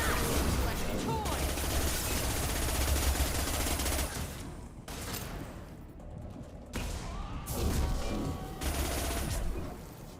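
Gunfire from Mass Effect 2 keeps up as a dense, sustained barrage of rapid shots, broken by a short lull before bursting out again, with game sound mixed in.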